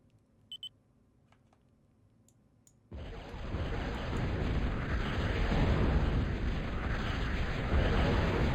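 A bombing run strikes in the Gods of War strategy game. After a few quiet clicks, a loud rumbling roar of explosions bursts in suddenly and keeps going, dense and heavy, to the end.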